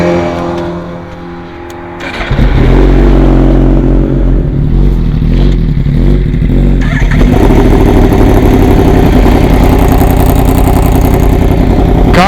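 Tuned Suzuki GSXR1000 motorcycle with a full exhaust, loud and close, idling briefly before revving hard into a sustained roaring rise and hold that stays strong to the end.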